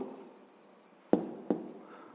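Pen or chalk writing notes during a Ukrainian physics lesson, a few brief scratchy strokes close by, two sharper taps standing out against a quiet room.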